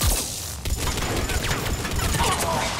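Turret gunfire in Mass Effect 3 co-op on the Firebase Reactor map, dense rapid bursts of shots and mechanical clatter filling the scene, with a voice talking over the din.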